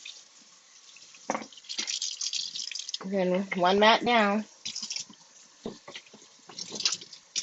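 Water runs from a tap over a Cricut cutting mat being rinsed, with soft drips and splashes under close, frequent speech.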